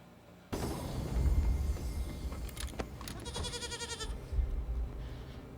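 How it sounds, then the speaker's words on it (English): A goat in a scene from the TV series Severance bleats in a series of short, wavering cries over a background of rumbling noise and clatter, with no talking. "Emil is the name of the goat."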